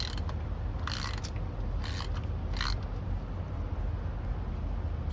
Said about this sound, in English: I'm going to loosen up the fill plug.